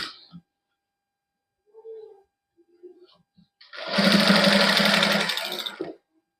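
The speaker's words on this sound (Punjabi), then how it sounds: "ਇਸ ਤਰ੍ਹਾਂ ਸਲਾਈ ਲਾਉਂਦੇ ਜਾਵਾਂਗੇ" An electric sewing machine stitches lace onto the sleeve of a plain cloth garment, starting after a few soft spoken sounds and fabric handling noises, then running as a near, loud, fast buzzing burst for about two seconds before stopping.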